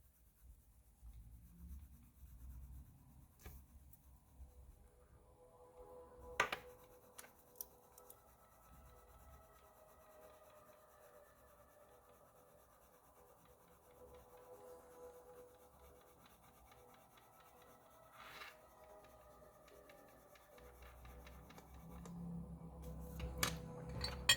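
Colored pencil shades softly across paper while a white ceramic cup is drawn, a faint, steady rubbing scratch in long strokes with a few sharper taps, quiet and close with no voices.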